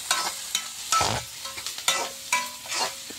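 Onions sizzle in a hot pan while a spatula stirs and scrapes them in brisk, repeated strokes, close and clear over a low frying hiss, for kothu parotta.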